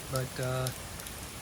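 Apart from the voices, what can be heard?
heavy rain pouring in Kyoto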